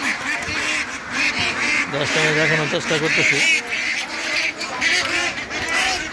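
Ducks packed about 25 to a coop quack repeatedly in loud nasal bursts, clustered mid-clip, while someone speaks over them close by.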